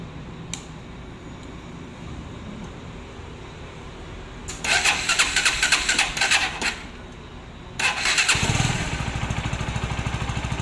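A Rouser NS160 motorcycle engine, after a timing chain and roller guide replacement, cranks and catches in two attempts, a rough loud burst of revving, a pause, then a second start that settles into a steady idle.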